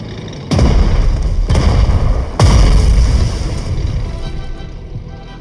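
Three heavy booms from an attack on an anti-aircraft gun in Strategic Mind Blitzkrieg arrive about a second apart, each a loud deep blast, followed by a rumbling tail that fades.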